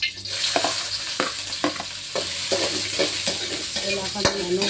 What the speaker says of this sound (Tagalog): Unahin natin ang luya